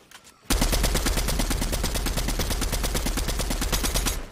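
Rapid automatic gunfire from a Fortnite match, a dense, loud burst of evenly spaced shots that starts abruptly and rattles on without pause.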